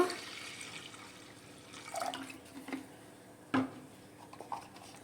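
Water poured into a pressure cooker holding soaked toor dal, heard as a faint, quiet splashing and trickle with a couple of brief louder splashes and drips.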